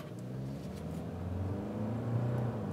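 A Nissan Terra VL 4x4 SUV accelerates up a hill, its engine drone climbing steadily in pitch and holding a strong, close, even roar throughout, with no voices.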